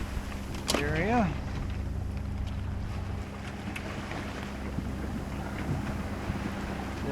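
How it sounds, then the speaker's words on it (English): A sailboat motoring toward Ensenada on calm seas in about 12 knots of wind. A steady low engine drone runs under constant wind buffeting, with a brief rising whistle near the start. "been motoring all day just trying to get here"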